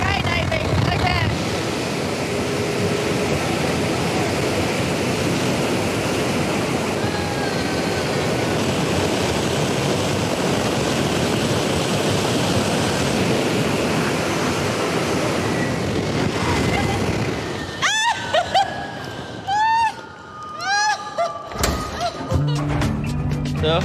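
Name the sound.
wind tunnel airflow at 181 km/h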